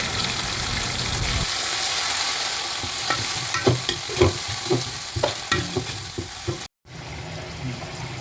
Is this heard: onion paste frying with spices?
yes